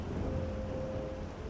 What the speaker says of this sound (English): the downpour outside grew heavier